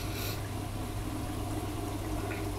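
A washing machine running a wool 40° program fills with water: a steady, continuous rushing and hissing inflow that stays at an even level throughout, with no talking.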